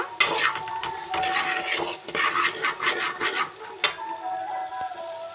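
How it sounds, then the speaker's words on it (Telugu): Onions fry in a pan with a constant close sizzle while a utensil stirs them, giving repeated scraping and clinking strokes, and there is no talk. "ఈ ఆనియన్స్ అయితే గోల్డెన్ కలర్ వచ్చేదాకా కలుపుతూనే ఉండాలి"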